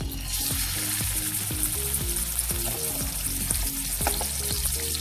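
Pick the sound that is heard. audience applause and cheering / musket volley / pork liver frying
pork liver frying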